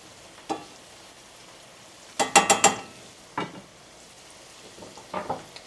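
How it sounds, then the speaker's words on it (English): Vegetables with black pepper sautéing in a pan for squash soup, brief bursts of stirring and scraping with a soft sizzle, a cluster of quick strokes in the middle and a few scattered single scrapes. "Saute it just until it goes limp."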